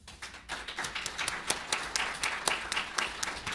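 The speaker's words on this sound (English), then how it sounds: "A big applause." An audience applauds after a musician and his band perform a song at a tribunal event, with fairly quiet, distinct claps falling in a quick, irregular patter throughout.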